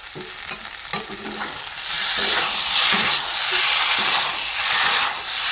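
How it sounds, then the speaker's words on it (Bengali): Pointed gourd and potato curry being stirred in a pan, scraping and clicking strokes at first, then a loud, steady hiss and sizzle that swells and holds to the end, no voices. "আবার সুন্দর করে ভালোভাবে নেড়ে চেড়ে দেখে নিতে হবে পটল আলুগুলো ভালো করে গলেছে কিনা"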